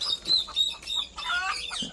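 Desi country chickens on a poultry farm cluck and squawk close by in a busy sequence of short, bright calls, alone.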